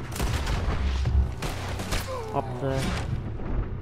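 Gunfire in the Western video game Red Dead Redemption 2, several sharp shots and booms scattered through a few seconds, mixed with game voices and a player talking.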